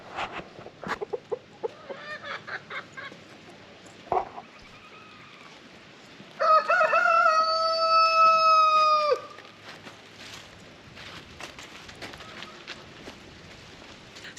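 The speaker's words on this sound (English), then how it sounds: "So the chickens we got are called Buff Orpingtons." Buff Orpington chickens cluck and chatter close by, with a drawn-out rooster crow in the middle standing out above the scattered bird calls.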